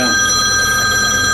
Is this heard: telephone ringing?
yes